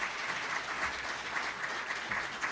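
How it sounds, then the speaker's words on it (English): Soft, even applause from an audience thanking panelists at a community social service and non-profit gathering, a continuous patter of many hands heard at a distance and fairly quiet throughout. "I'd like to offer one last thank you and round of applause for our panelists."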